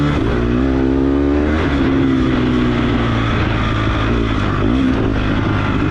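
A dirt bike engine roars loud and close throughout an off-road race, its pitch climbing and dropping with throttle changes through a turn, no talk.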